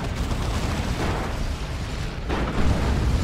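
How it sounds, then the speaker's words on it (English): A melta bomb detonates amid a Dawn of War 2 3v3 battle, a dense, rumbling burst of blast noise that runs steadily throughout and swells again near the end. "Melter Bomb went in from the operatives."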